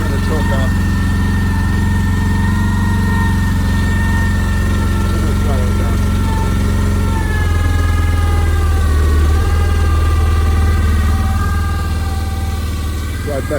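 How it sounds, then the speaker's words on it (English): A Chinese mini excavator engine runs steadily after a choked start in about 25-degree Minnesota cold, a loud, constant idle drone with a slight shift in pitch partway through. "Fire it up. I like to choke it for a moment."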